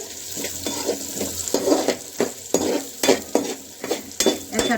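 Spices frying in oil in a pan for a dry potato and pea dish with green chili, stirred with a utensil: steady sizzle under repeated scraping strokes, close and fairly loud, with no talking.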